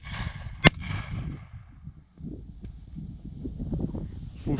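A single sharp Victory Day firework bang cracks out early outdoors, followed by a brief sizzle, then low voices and rustling continue.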